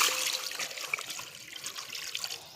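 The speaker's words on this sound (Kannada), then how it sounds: "ಫಸ್ಟಿಗೆ ಮೀನಿಗೆ ಕಲ್ಲುಪ್ಪು ಹಾಕಿ ಈ ಥರ ವಾಶ್ ಮಾಡ್ಕೊಳೋಣ ನೀಟಾಗಿ" Fish being washed by hand with rock salt in water, close splashing, trickling and swishing with irregular wet rubbing, continuous and fairly loud.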